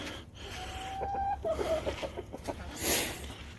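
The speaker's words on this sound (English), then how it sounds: "I've got my Rhode Island Red rooster" A Rhode Island Red rooster crows nearby over a noisy backyard chicken yard background with low rumble, followed by a sharp hiss at the end.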